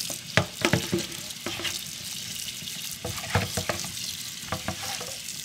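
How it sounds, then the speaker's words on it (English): Broccoli is rinsed in a big bowl, with repeated splashing, sloshing water and the clatter of florets being tossed in bursts, fairly close and loud, with no talking. "get a big bowl and rinse your broccoli"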